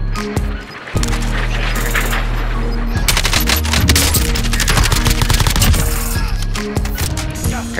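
Rapid automatic fire from a Kilo assault rifle in the video game Warzone, loud bursts of close gunshots with short pauses between them, mixed with other gunfire and game sounds.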